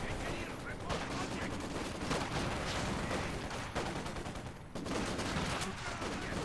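In-game artillery barrage and machine-gun fire during a competitive real-time strategy match, dense continuous volleys of rapid shots and booming blasts with a short lull, with a commentator talking over it.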